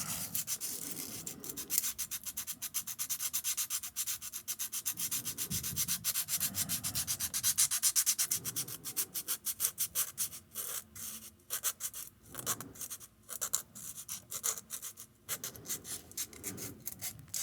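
Sandpaper rubbed steadily against a coin, a close, continuous scratchy sanding with rhythmic strokes that break into shorter, choppier passes later on, heard alone.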